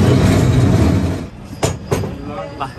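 A San Francisco cable car rumbles loudly along its rails up close, a heavy rolling roar that eases off into a few sharp metallic clacks and a brief squeal.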